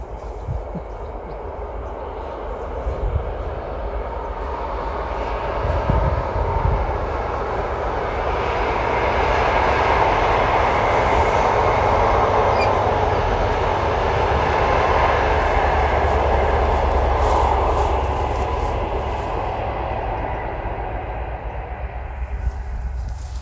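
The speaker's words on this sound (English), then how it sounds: "I believe it's the banana train, or what they call the line management measuring train." A yellow line management measuring train, known as the banana train, rumbles past in a long steady roar that swells toward the middle and fades again, heard alone outdoors.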